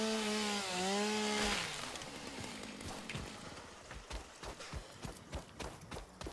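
Chainsaw cutting through forest in the video game Satisfactory, a buzzing saw with a run of sharp, irregular chopping hits after a brief musical tone at the start, moderately loud and close.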